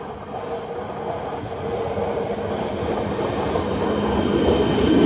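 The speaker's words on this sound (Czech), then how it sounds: "Regiopanter Blaženka na osobním vlaku odjíždí z stanice Želénky" A RegioPanter passenger train pulls away from a Czech station, its rumble and wheel clatter building steadily louder from start to finish, heard alone without talk.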